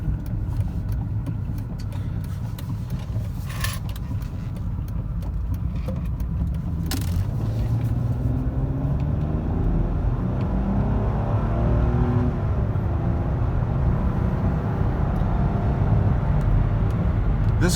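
A 2001 Mercedes E320 W210 engine pulls steadily as the car accelerates from second gear at night, a low rumble rising in pitch over road noise, with a couple of brief clicks early on.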